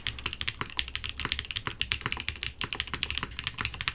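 Mechanical keyboard with plate foam only, typed in a quick, uneven run of distinct keystrokes, each a crisp, close tap at moderate loudness.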